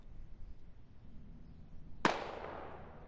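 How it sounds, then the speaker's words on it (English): A single sharp rifle shot from the tactical shooter game Squad, one loud crack about two seconds in with a fading tail, over a quiet low background and no talk. "Oddball still taking pot shots at Charlie Foxtrot"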